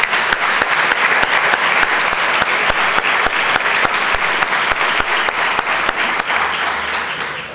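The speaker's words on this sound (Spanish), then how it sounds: "Un aplauso para Emisora del Sur." A live concert audience breaks into loud, sustained applause, dense rapid clapping that holds steady and only starts to thin near the end.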